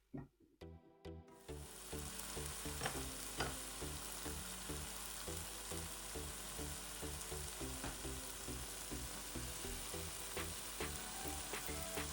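Tomato gravy for okra masala simmering and sizzling steadily in a pan, a loud continuous fry with repeated rhythmic clinks and scrapes, heard alone after a brief quieter start.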